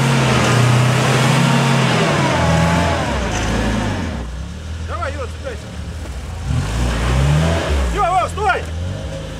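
Off-road race vehicle engine at the Versta-Trophy race in Khvalynsk, revving hard under throttle nearby with rising and falling pitch, while people shout and talk over it.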